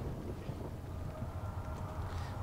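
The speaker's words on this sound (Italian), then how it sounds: "C'è un po' di vento." Steady wind blows through the horror game Amnesia: The Dark Descent, a continuous broad rushing hiss with a low rumble that holds at an even, moderate level for the whole stretch, with no voices.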